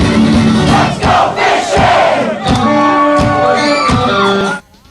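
A large concert crowd at a show roars back a chant in loud unison, dense and sustained, ending abruptly.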